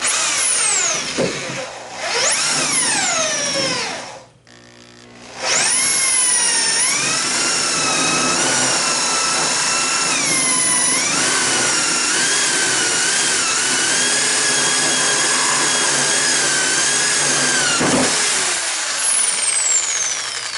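A loud, high-pitched electric drill whines steadily, pitch sliding as it revs, with a brief pause before it spins back up and runs on.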